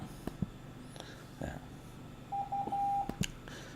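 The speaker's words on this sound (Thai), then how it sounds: "เสียงจะเป็นเสียงดิดิดา นะครับ ดิดิดา นะครับ U นะครับ" A Morse code tone spells the letter U, two quick beeps followed by one longer beep, faint against a low background hiss with a few soft clicks.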